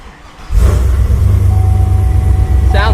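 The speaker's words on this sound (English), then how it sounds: "we're gonna fire it up with the new exhaust" A 6.0 Chevy Silverado V8 fitted with a new exhaust cranks and fires after a brief quiet moment, settling into a deep, loud, rumbling idle close by, with a brief voice near the end.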